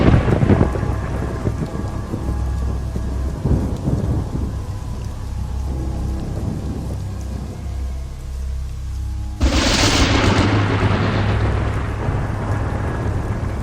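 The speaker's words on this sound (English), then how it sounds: "I hope the rain isn't too acidic" A loud thunderstorm in the video game Alternativa: heavy rain hisses steadily throughout, with deep rolling thunder rumbling underneath and a sharp, louder burst of downpour and thunder near the end.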